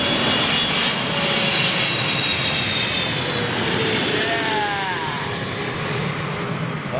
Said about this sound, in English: Watch this big set of undercarriage hit the deck.